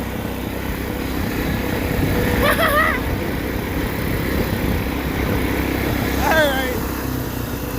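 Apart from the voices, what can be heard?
Case XC210 lawn mower engine running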